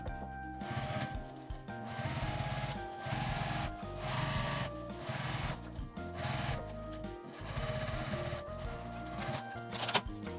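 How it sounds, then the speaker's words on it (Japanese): A sewing machine stitches the zipper end of a fabric box pouch, a steady rapid mechanical chatter in short runs with brief pauses, quiet and close. "こちらも同じように開いて端を留めてファスナー端を縫います"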